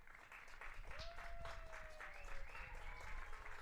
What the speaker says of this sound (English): He gets a good hand from the crowd.